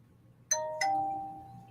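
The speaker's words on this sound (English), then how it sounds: "Exactly. Ding dong." A two-tone doorbell chimes ding-dong indoors, two clear, moderately quiet strikes with the second tone ringing out and fading.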